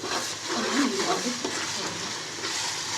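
Ginger garlic paste frying with browned onions in a pan for mutton biryani, a steady close sizzle with the scrape and shuffle of stirring running throughout.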